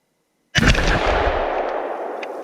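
A single sharp 6.5 Creedmoor rifle shot with Hornady 120 grain GMX ammunition cracks out of silence, loud and close, then rolls away in a long echoing outdoor decay.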